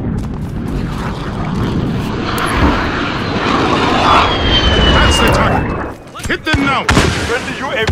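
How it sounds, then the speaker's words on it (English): A friendly VTOL aircraft drones overhead in a hardcore Call of Duty Modern Warfare match on the Euphrates Bridge map, a loud, steady engine roar amid distant gunfire and booms, with voices briefly breaking through near the end. "they get friendly VTOL in the air"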